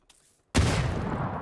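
Burst of FAMAS rifle fire in a battle-royale esports match, arriving suddenly after a faint tap and continuing as a loud, dense, rattling volley.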